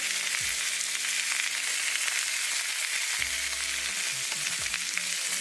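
Salmon fillets frying in a skillet with mushrooms, a loud continuous crackling sizzle with a few low stirring bumps and scrapes; no voices.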